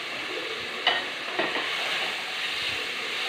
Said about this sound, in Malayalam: ഉള്ളി ചുമന്ന ഉള്ളിയാണ് വെച്ചിരിക്കുന്നത് വെളുത്തുള്ളി ഇഞ്ചി കറിവേപ്പില ഇതെല്ലാം കൂടെ നന്നായിട്ടൊന്ന് വഴറ്റിയെടുക്കാം